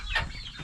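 Chickens on a homestead giving a short, close cluck, a single quick fowl call over soft background noise.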